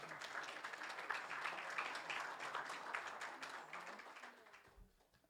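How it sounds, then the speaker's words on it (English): A round of applause from a gathering in a mosque during a Ramadan celebration: many hands clapping in a steady wash that holds for about four seconds, then thins out and fades near the end. "One round of applause for Mujtaba."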